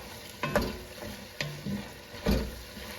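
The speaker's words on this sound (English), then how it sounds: "We're gonna stir this in now to the meat." A spoon stirring sautéed tomato paste into spicy Italian sausage meat in a pot, with soft sizzling and three or four distinct scraping strokes against the pot, close and fairly quiet.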